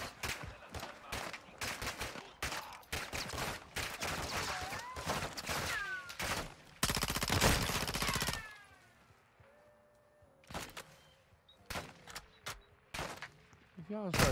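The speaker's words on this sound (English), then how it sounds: "Shooting at these motherfuckers" Video game gunfire, with bursts of shots and rapid volleys mixed with game effects, loud in places and dropping off toward the end, while people talk over it.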